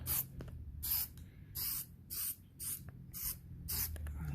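Another coat goes onto a gun from a spray can, six or seven short hissing bursts about half a second apart, close and crisp, with brief pauses between them.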